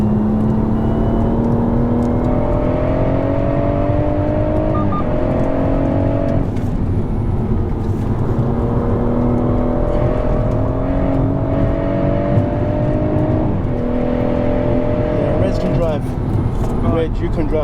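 A BMW M140i on a gentle cool-down lap gives a continuous engine drone that climbs in pitch and then drops at each gear change, heard from inside the car with people talking over it.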